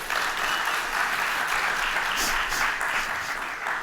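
A conference audience gives a sustained round of applause for developer speakers, dense clapping from many hands filling the room evenly throughout.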